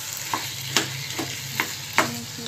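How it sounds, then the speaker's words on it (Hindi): Potatoes frying in a pan with tomato for egg curry are stirred with a spoon, giving several sharp scraping clacks at irregular intervals over a soft continuous sizzle, close and alone without talk. "देखिए आलू डालने के बाद अच्छे से चलाएंगे।"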